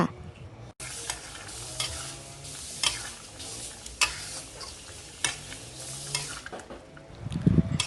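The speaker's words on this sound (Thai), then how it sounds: "ขั้นตอนนี้นะคะก็ตั้งแกงไปเรื่อยๆจนกว่าเนื้อหมูของเราจะสุกค่ะ" Pork curry with coconut milk and noni leaves cooks in a pot, giving a close bubbling sizzle while a utensil stirs and taps against the pot at irregular intervals.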